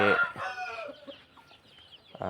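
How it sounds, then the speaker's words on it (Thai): Thai fighting game fowl on a farm clucks in a loud, close burst, then falls to faint scattered calls before another sharp cluck at the end. "ขาวทาชินี่ก็เป็นไก่ของถนนชัยฟาร์ม"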